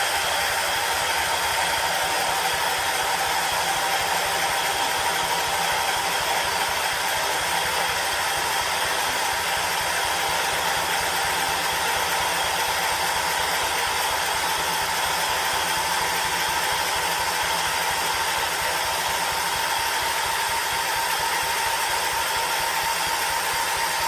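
A 1979 John Deere 214 lawn tractor engine, restarted after sitting for months, runs at a steady, even drone, loud and unchanging throughout, with no talking.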